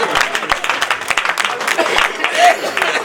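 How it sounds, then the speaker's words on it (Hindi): Scattered, uneven hand claps come from the audience at a Hindi comedy poetry gathering (hasya kavi sammelan). The sharp individual claps sound fairly close and break up rather than building into full applause, with crowd murmur and a voice underneath. "यहाँ ताली बजानी थी, आपने बजाई नहीं।"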